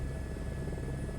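A helicopter in Microsoft Flight Simulator 2024 flies over Bora Bora, giving a steady, continuous low rotor drone and engine hum with even loudness throughout and no talking.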